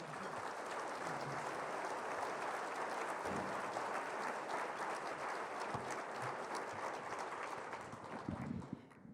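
An audience at the 2019 State of the Region event claps steadily to welcome Metro President Lynn Peterson, with sustained dense applause that tapers off near the end.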